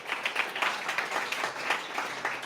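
A pitch competition audience claps in a moderate, fairly even patter of many hands, rising and falling slightly over a couple of seconds.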